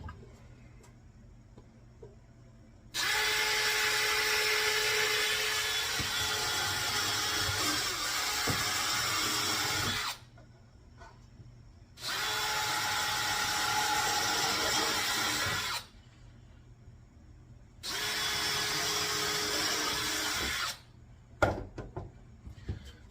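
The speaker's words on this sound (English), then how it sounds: "I'm going to drill me a couple of pilot holes in here" A power drill bores pilot holes into a scorched wooden carving of Jesus in three separate bursts of several seconds each, loud and close, with a faint ticking in the quiet gaps between runs.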